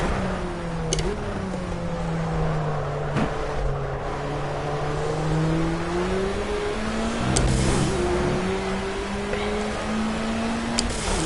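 Formula A single-seater engine in Project CARS, downshifting to second gear through a hairpin, a loud buzzing whine that drops in pitch under braking, then climbs again as it accelerates out, with brief clicks of gear changes and no talk.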